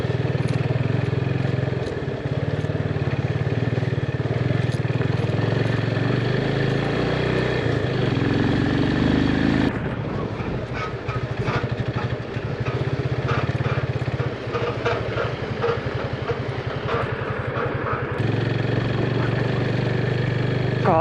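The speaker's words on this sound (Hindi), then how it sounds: "बाइक स्लिप मार रही है।" A motorcycle engine runs on a slippery mountain road in the Spiti Valley, a steady close drone that shifts in pitch and load partway through as the bike pulls and slips.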